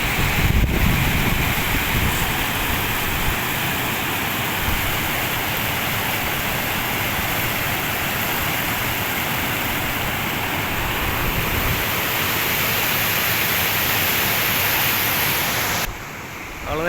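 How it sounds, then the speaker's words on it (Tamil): The Amaravathi river in Tamil Nadu rushes strongly, a dense, continuous roar of turbulent water heard close and loud, with wind buffeting the microphone and no voices. "ஆனால் தண்ணி பயங்கரமாக வருது"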